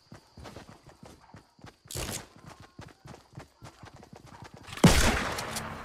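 Gunfire in the video game Fortnite: a loud burst near the start and a heavier blast later, over a busy run of quick footstep-like taps and game effects.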